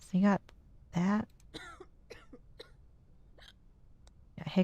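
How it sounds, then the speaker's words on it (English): Two sharp, voiced hiccups come in quick succession, followed by soft, scattered mouth and throat noises before another hiccup-like burst. "Got hiccups."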